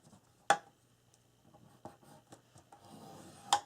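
Paper being scored with a tool along a scoring board, giving soft scraping strokes with two sharper clicks, all close and quiet.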